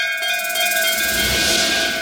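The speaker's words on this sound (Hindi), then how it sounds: "चलो दोनों एक साथ मिलके इस घंटी को बजाते हैं।" A cartoon clock-tower bell rings with a sustained metallic tone whose overtones hum and shimmer steadily throughout, fairly loud, with no speech.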